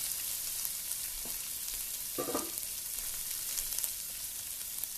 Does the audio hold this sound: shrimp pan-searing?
yes